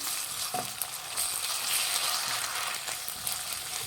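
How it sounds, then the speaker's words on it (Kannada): Sliced onion fries with ginger-garlic paste in a pan as the base for an egg kurma, giving a continuous bright sizzle with occasional stirring scrapes, close and alone. "ಇವಾಗ 1 ಸ್ಪೂನ್ ಶುಂಠಿ ಬೆಳ್ಳುಳ್ಳಿ ಪೇಸ್ಟ್ ಹಾಕ್ಕೊಳ್ಳಿ. ಫ್ರೈ ಮಾಡಿ, ಹಸಿ ವಾಸನೆ ಹೋಗಬೇಕು."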